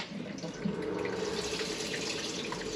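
Water runs steadily from a tap aboard a boat, a continuous close hiss and splash into a basin that starts with a brief gurgle and then flows evenly.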